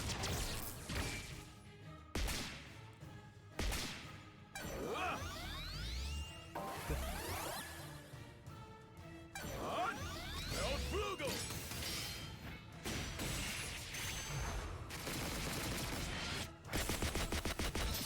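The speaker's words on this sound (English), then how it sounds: "Here it comes! Infinity Cannon!" An Infinity Cannon attack fires in a video game, a loud sequence of blasts, crashes and whooshing bursts in several waves, with music and effects dense throughout and brief gaps between salvos.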